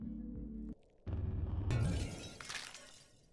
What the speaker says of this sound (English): I maybe wasn't supposed to just tap the glass like that, was I?